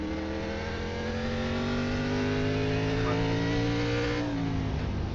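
A race car engine at a COTA circuit race revs steadily after a downshift into first gear, a loud, close, continuous buzzing drone with smoothly shifting pitch and no talk.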